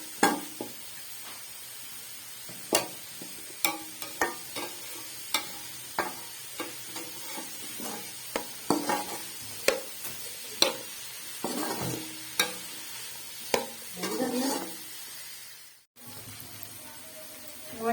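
Capsicum pieces fry in a pan with a soft, low sizzle, punctuated by regular clinks and scrapes of a spoon stirring roughly every second, ending in a brief rustle.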